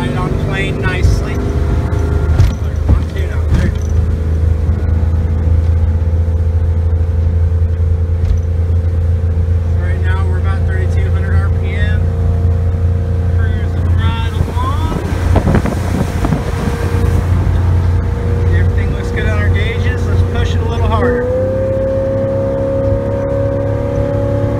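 A 1995 Chaparral 2500 boat with a Bravo 3 sterndrive running on plane across the water, a loud steady engine drone with wind buffeting the microphone and someone talking over it.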